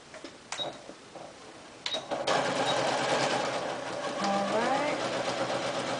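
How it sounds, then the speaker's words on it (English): Sewing machine stitching a set-in sleeve seam along a 5/8 inch mark, a fairly quiet continuous mechanical whir with a few sharp clicks, starting after light handling noises. "stitching right along that 5/8 inch mark"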